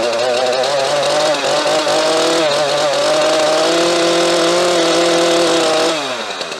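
A chainsaw engine running on E10 fuel idles and revs steadily up close, a loud continuous buzzing drone that shifts pitch midway and drops off at the end.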